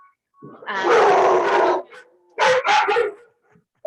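A dog gives a drawn-out, whining bark followed by two shorter yips, close and fairly loud, with silence between.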